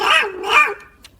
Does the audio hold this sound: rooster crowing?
no